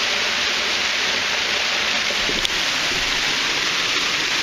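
Steady, full roar of a waterfall along a hiking trail, its clear water pouring continuously, heard close and loud with no voices over it.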